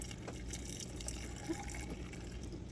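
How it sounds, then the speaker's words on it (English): Boiled water pours steadily into glass jars packed with marinated tomatoes, a soft continuous liquid trickle and fill sound heard close up without any talk. "now let's add that water that we just boiled to these amazing, beautiful jars"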